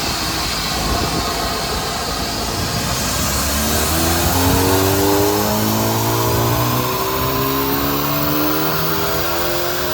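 A turbocharged 2-litre four-cylinder front-wheel-drive 2024 Hyundai i30N sedan accelerates hard, its loud engine and turbo whine climbing steadily in pitch throughout with no talking.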